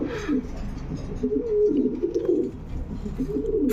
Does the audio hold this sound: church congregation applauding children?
no